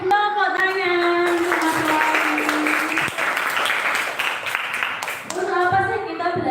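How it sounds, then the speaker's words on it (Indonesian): A classroom of children claps together for a few seconds, a dense burst of hand clapping that starts after and ends before stretches of an adult voice speaking. "Tepuk tangan"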